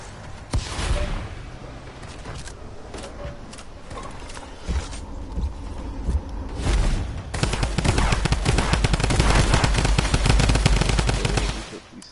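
Video game gunfire crackles in bursts, sparse at first, then swells into dense, continuous rapid fire over the last few seconds, loud and close throughout.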